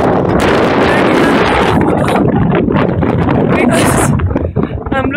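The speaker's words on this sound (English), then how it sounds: "I can't speak, it is so windy." Strong wind roars into the microphone in a constant loud rush, heard high in the mountains during a bicycle ride from Manali to Khardung La.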